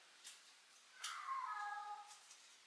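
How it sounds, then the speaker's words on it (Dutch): A house cat meows once, a clear drawn-out call of about a second, fairly close in a quiet indoor room with no talking. "Poes."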